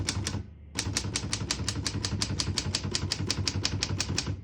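Steady, rapid keystrikes on a 1935 Corona Standard vintage portable typewriter, crisp mechanical clacks in an even rhythm after one brief pause, close and loud with no voices.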